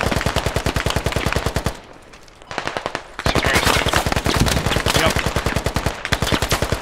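Sustained automatic machine gun fire in the video game Squad, rapid loud regular bursts with a short lull of quieter gunfire in between, close and dominant throughout.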